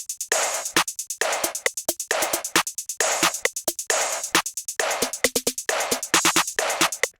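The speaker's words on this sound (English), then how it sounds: "I added a snare after that." High-end snare sample in a distorted FL Studio rap beat, layered over claps: a fast, repeating burst of sharp, bright, crunchy hits with brief dropouts, loud and upfront, no voices.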